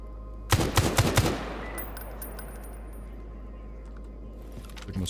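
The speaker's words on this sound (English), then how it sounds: "they're shooting me through bushes" A short, loud burst of machine-gun fire in the video game Military Invictus, several rapid shots in under a second, followed by a fading echo and quiet ambience with a faint later thump.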